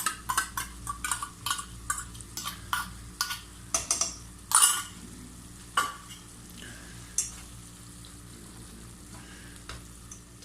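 Chili beef frying in a pan with a spoonful each of hot sauce and chili sauce stirred in, giving bursts of sizzling and repeated stirring scrapes close up, with quieter frying between strokes.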